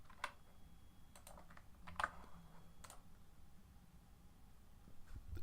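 Quiet typing on a computer keyboard, a handful of scattered light key clicks with pauses between them, close and soft.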